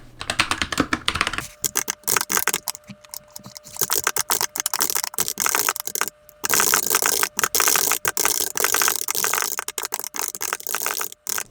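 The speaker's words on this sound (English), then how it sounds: "Typing / rewriting the first scene of the first act" Steady, close typing on a computer keyboard, with rapid irregular key clicks in bursts and short pauses while a play script is rewritten; no voices.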